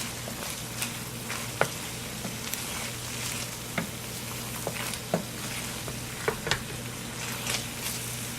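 Pasta sauce sizzles and fries steadily in a pan, a continuous close crackle with a low hum beneath and occasional stirring clicks and pops.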